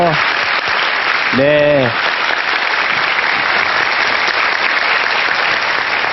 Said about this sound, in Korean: 박수로 좀 환영을 해주세요